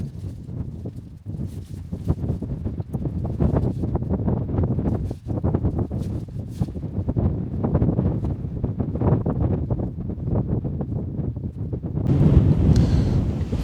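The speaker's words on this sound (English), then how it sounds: "The wind is picking up now" Strong wind buffets a wild campsite in the UK where a Terra Nova Vault Duo tent is pitched, making a continuous rough roar with gusty surges that grow louder toward the end.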